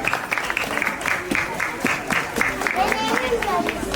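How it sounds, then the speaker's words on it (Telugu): Audience applause at a neighbourhood Ganesh immersion celebration ceremony in Anurag Nagar Colony, a crowd's scattered clapping ringing out with a voice speaking over it. "చప్పట్లు కొట్టవలసిందిగా మనవి."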